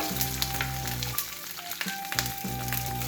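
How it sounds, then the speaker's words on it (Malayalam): Curry leaves and green chillies frying in hot oil, a loud, dense sizzle that crackles steadily with brief dips and quick spits, close by and alone. "കറിവേപ്പിലയും പച്ചമുളകും ഇട്ട് കൊടുക്കണം"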